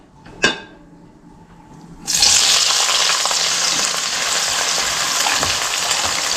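Onions tipped into a hot pan start frying: a brief clink comes first, then a sudden loud, continuous hissing sizzle that carries on close and steady, with no talking.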